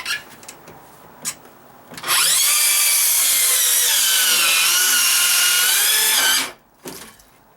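A circular saw with its blade set high cuts through dry-rotted wooden deck stair stringer, a loud sustained whine for about four seconds after a short rev, preceded and followed by brief handling knocks.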